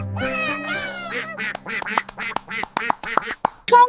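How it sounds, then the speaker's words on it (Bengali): An animated duck quacks in a Bengali nursery rhyme for children, a rapid series of about a dozen short, nasal cartoon quacks in a bouncing rhythm, close and clear, with a brief voice-like sound at the end. "হাঁস হাঁস হাঁস হাঁসটি পুকুরে ভাসলো তো"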